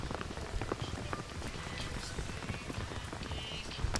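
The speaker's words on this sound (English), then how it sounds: "Oh, we're hearing lots of rain." Heavy rain drums on a commentary booth at a professional lacrosse game, a dense, steady patter with scattered sharper drop hits throughout, fairly close and continuous.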